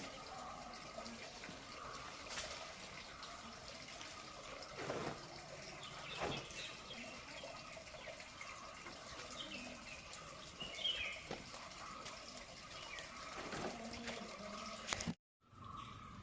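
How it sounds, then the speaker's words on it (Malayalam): Water runs steadily into a basin being filled for watering banana saplings, a continuous close splashing rush with no talk, cutting off abruptly near the end. "വാഴയ്ക്കൊഴിക്കാനുള്ള വെള്ളം അങ്ങനെ ഒരു ബേസിൻ്റെ അകത്ത് നിറച്ചുകൊണ്ടിരിക്കുകയാണ്"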